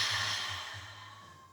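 Breath during a Pilates mat warm-up, a close, breathy sigh-like exhale that tapers off gradually, with a low pulsing rumble underneath.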